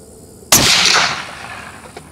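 A single loud rifle shot from a custom 7mm Rem SAUM rifle firing Winchester large rifle magnum primers during load testing at an outdoor range, a sharp crack followed by a rolling echo that fades over about a second.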